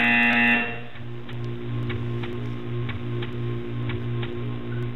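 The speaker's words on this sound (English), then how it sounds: "You will hear a buzzer." A harsh buzzer sounds briefly in the video game Portal 2, then gives way to a steady, regular ticking over a low electronic hum.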